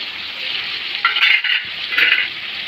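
Tomatoes and green chillies fry in a thickening curry, a moderate close sizzle swelling in two short scraping surges as the pan is stirred.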